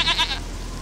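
From the RPG Maker game Vampires Dawn 2, a brief goat bleat with two wavering pulses up front, clear and fairly loud, then quiet background hum.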